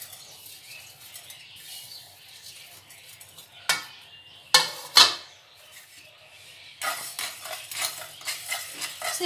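Coriander, fenugreek and fennel seeds dry roasting in a pan, heard as a soft steady rustle broken by a few sharp scrapes and clinks of stirring, then a stretch of busier scraping near the end.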